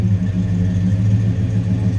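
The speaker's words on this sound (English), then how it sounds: "Nice little rumble coming out of that" A 1987 Chevrolet K20 pickup's 5.7 liter V8 idles with a steady, close, deep rumble that holds even throughout, with no talking over it.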